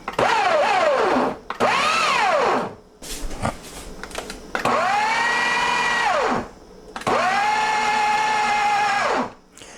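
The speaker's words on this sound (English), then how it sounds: "my food processor actually has a dough function on it that I will just run sporadically" A food processor motor whirs in several bursts on its dough function for bagel dough, speeding up and winding down between runs, with a brief clattering pause in the middle.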